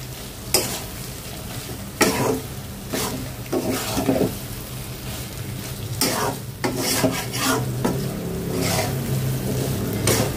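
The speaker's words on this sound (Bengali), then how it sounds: "এখন একদম ভাজা ভাজা করতে করতে কিন্তু একদম কালো হয়ে গেছে শুটকিটা" Dried loitta fish with whole garlic cloves is fried and stirred in a pan, giving a steady sizzle broken by repeated loud scraping strokes of the spatula against the metal.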